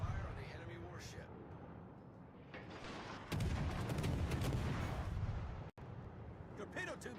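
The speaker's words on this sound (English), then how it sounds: "Fire on the enemy warship." Naval guns boom in a warship battle video game, heavy blasts and rumbling fire filling the clip, with a loud sustained barrage from the middle onward, a brief cutout, and speech mixed in.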